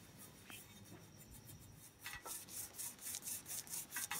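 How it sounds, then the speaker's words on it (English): Steady back-and-forth rubbing of cutting compound on the metal frame of a vintage Colnago Super bicycle, a faint rhythmic rasping that quickens into regular strokes toward the end, with quiet talk underneath. "you can see as I rub it how the cutting compound gets rid of all that excess"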